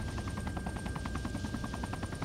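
A helicopter in the video game Arma 3 flies steadily, its rotor producing a fast, even thumping chop under a continuous engine whine.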